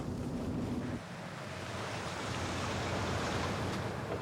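Fast-flowing river rapids roar in a loud, continuous broadband wash of rushing water that is steady throughout, with no voices.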